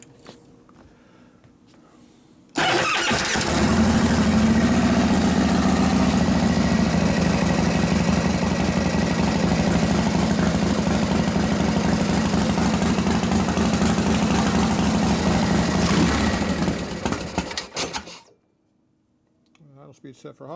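A Harley shovelhead big bore stroker motor cranks and catches, then runs loud and close at a steady high idle for about fifteen seconds before shutting off abruptly.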